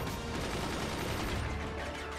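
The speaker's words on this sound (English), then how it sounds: "Oh, is that a cannon? That's a cannon!" Cannon fire in the game Forts sounds as a dense, rumbling barrage. Continuous heavy booms and rattling mechanical noise go on throughout the short, loud burst.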